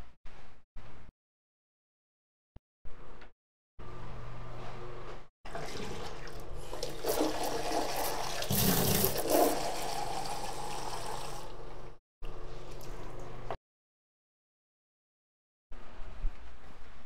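Water running from a tap to refill a container, a steady rushing flow that starts and stops several times, with the pitch and intensity building as the vessel fills.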